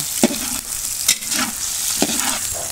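Garlic fries and sizzles in a pan while being stirred, with a steady hiss punctuated by three sharp scraping stirs spaced about a second apart.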